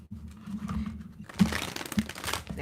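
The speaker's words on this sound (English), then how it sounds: "I'm trying to get a good shuffle." Tarot cards being shuffled by hand in a few crinkly, riffling bursts, close and fairly quiet, with a soft low hum beneath and no talking.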